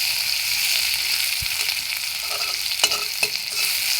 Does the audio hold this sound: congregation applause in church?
no